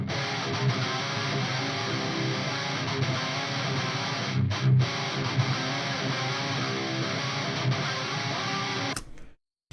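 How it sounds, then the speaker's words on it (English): Electric guitar played through an Aurora DSP Soldano SLO 100 amp simulator, a dense, heavily distorted tone sustaining steadily for about nine seconds before cutting off abruptly. "the first one is Aurora DSP's Soldano SLO 100."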